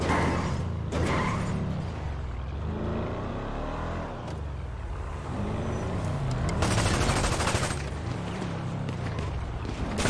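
Video-game gunfire comes in rapid bursts during a city event in Ghost Town LA, mixed with car engine revving and loud game noise, while a player talks intermittently.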